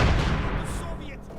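Artillery and gunfire in the World War II strategy game Company of Heroes 2 erupt in a loud, broad blast at the start that rumbles and fades, with faint battle noise trailing after.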